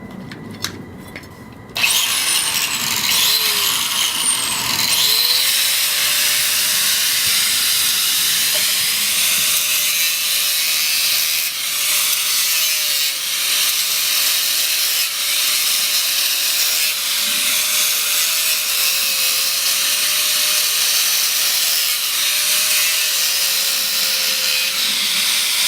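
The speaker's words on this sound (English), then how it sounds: "I'm going to do it with a power tool because it's a lot quicker." A power tool trims a horse's hoof along the white line, a steady loud whirring hiss with a faint wavering tone running continuously for the whole stretch, starting abruptly after a brief quieter moment.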